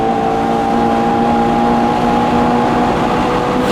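Lotus Elan 26R race car at steady speed on a racing circuit, its engine holding a loud, continuous droning note with stable harmonics, close and unbroken with no talking.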